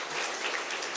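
Applause from a church congregation at a Friday prayer service, a steady, dense wash of clapping filling the whole moment without any voices.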